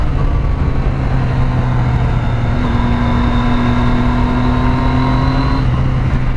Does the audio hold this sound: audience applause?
no